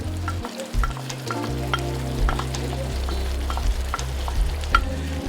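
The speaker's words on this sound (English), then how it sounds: "now let's put our sauteed onion and garlics that are translucent" Sauteed onion and garlic stirred into tomato sauce frying on high heat: a constant sizzle with repeated clinks and scrapes of stirring, close and fairly loud, no talk.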